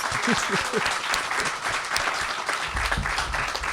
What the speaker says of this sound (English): Give him a round of applause, people, please